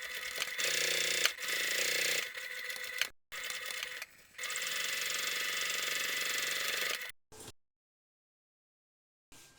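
Sewing machine top stitching a fabric seam in several runs of dense, fast mechanical clattering separated by brief pauses, close and loud, ending in silence.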